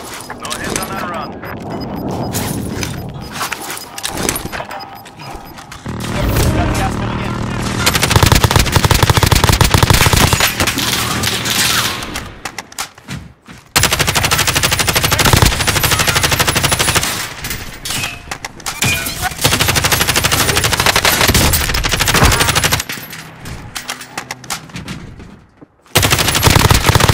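Rapid bursts of automatic gunfire and single shots in a first-person shooter video game, loud and repeated in clusters with brief pauses, while players talk over the action.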